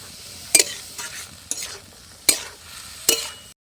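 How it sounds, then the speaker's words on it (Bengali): Spinach curry with ginger paste, radish and bori is stirred in a pan, giving four sharp scraping strokes of a spatula at even intervals over a low sizzle, close and clear, no talking. "আদা বাটা দিয়ে খুব ভালো করে আমি নেড়ে চেড়ে নিয়েছি"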